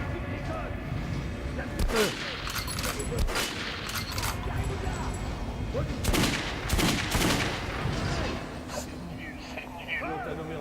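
Gunfire against armoured targets in Metro Last Light: repeated sharp shots and bursts over a constant game soundscape, with someone talking throughout.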